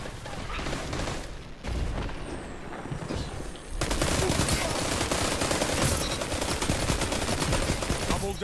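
Rapid, dense gunfire-like bursts from a tracker cannon in Destiny 2, loud and continuous, intensifying into a sustained heavy barrage after a brief lull.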